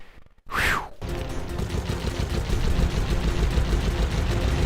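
Explosions and gunfire from the Sly Cooper video game form a dense, loud, continuous barrage of rumbling blasts after a brief whooshing sweep and a moment of near silence at the start.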